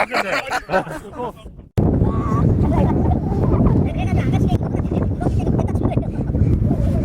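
Strong wind buffets the microphone on a golf course at Sejong Lakecastle CC. After a brief stretch of talk, a loud, continuous rushing roar takes over, with a few faint voices underneath.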